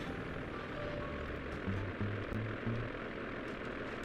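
Propeller engine of a biplane in Sly 2: Band of Thieves, a steady droning hum throughout, with short tonal game sounds blipping over it partway through.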